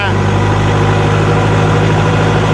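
A Kubota L40 tractor's 40-horsepower diesel engine idles loudly and steadily, a deep continuous throb with constant vibration up close.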